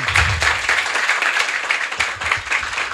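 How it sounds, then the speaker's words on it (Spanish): Steady, dense applause from an audience at a conference event on Afro-community financial innovation, a continuous wash of many hands clapping for several seconds. "muchísimas gracias, un aplauso"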